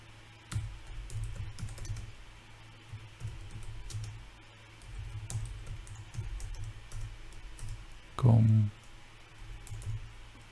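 Someone types on a computer keyboard while working on an NVIDIA Jetson Nano setup; irregular clusters of soft key clicks come in bursts close to the mic, with a short louder knock near the end.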